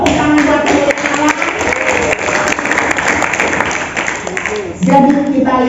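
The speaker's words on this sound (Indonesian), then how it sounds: "Tepuk tangan buat Allah" A church congregation at a student fasting worship service claps their hands in a dense, continuous wash of applause, with voices and music running underneath throughout.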